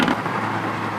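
A Mercedes-AMG A-Class exhaust gives a brief, loud, broadband roar, steady and rushing, heard up close for about a second.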